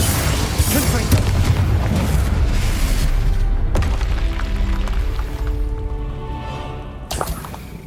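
Casting Confringo in Hogwarts Legacy sets off a loud booming blast with a whooshing burst, which fades into quieter game ambience before a second sharp hit near the end.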